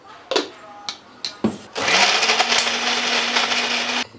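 A mixer grinder grinds lightly sautéed cooking ingredients, starting after a few knocks and clicks and then running as a loud, steady whirring motor drone that holds its pitch until it cuts off abruptly.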